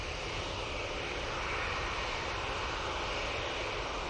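An easyJet airliner taxiing along Taxiway Tango at Manchester Airport gives off a steady, continuous engine whine and rumble at moderate distance, unchanging over a few seconds.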